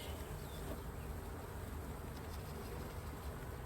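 A swarm of honeybees in a box produces a faint, continuous insect hum that drones steadily, quiet and somewhat distant, with no voices present.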